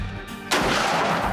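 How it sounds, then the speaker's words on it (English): A single shotgun blast fires at clay targets outdoors at a conservation camp, sounding as a loud, sharp boom with a rumbling tail. "see if they can handle it safely while they try to shoot some clays"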